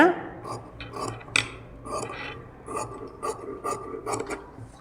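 Scissors cut through fabric for stitching a gown, a series of short rasping snips and rubs spread irregularly across the moment, close up and moderately quiet, with faint whispery sounds in between.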